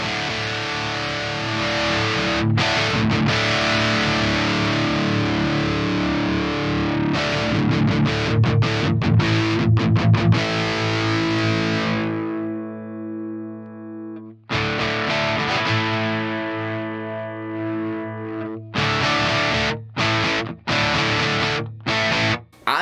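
Electric guitar played through an Orange amp model on an Axe Fx III, pushed hard into heavy distortion, with loud sustained chords and abrupt stops that leave ringing harmonic tails, alone without talk.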